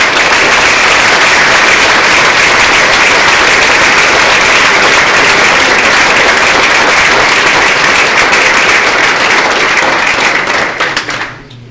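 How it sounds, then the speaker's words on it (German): An audience claps loudly for Michael Schweiger and Michael Dallinger at the EDGE13 rollout event, a dense, steady roar of many hands that holds for about eleven seconds before trailing off abruptly at the end. "Einen großen Applaus bitte für Michael Schweiger und Michael Dallinger zusammen."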